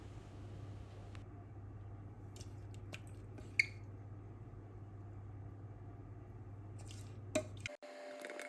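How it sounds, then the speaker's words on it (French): Cooled raspberry compote being poured and spread over a dessert base, with soft wet squishing and dripping over a low steady hum, plus a few small clinks, quiet and close. "quand la compote de framboise a refroidi, je la verse entièrement par-dessus la base et je l'étale"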